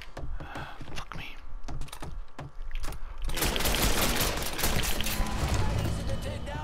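Gunfire in the Mafia 3 video game: after a stretch of clicking keystrokes and faint voices, a dense burst of rapid shots and fusillade noise takes over and runs continuously to the end.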